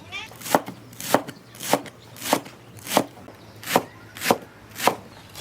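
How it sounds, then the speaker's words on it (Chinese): A knife chops Chinese chives on a board in even, evenly spaced strokes, about two per second, each a crisp close thud; no speech. "把韭菜切碎"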